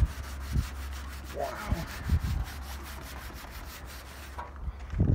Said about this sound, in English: That rust is so thick you can feel it. It's all gritty, but it's coming off.